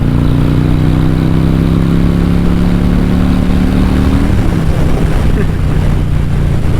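Harley-Davidson motorcycle engine under way on a curvy road, a loud, steady low drone with a throbbing exhaust note and rushing wind, its pitch easing lower partway through, heard close and without talk.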